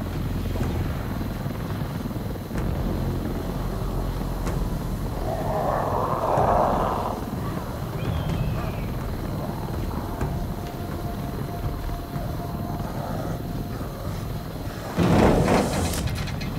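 A helicopter in the video game Arizona Sunshine 2 drones with a steady low rotor chop through the whole stretch, fairly loud and constant, with brief clatters rising over it near the middle and toward the end.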